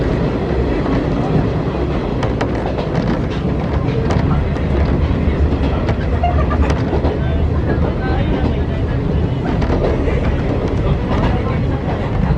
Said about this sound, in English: This train is bound for Suzenji.